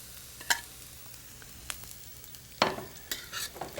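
Chilies and cumin seeds frying in a pan with asafoetida and turmeric, a soft sizzle broken by a few sharp spoon clinks and stirring scrapes, close and fairly quiet.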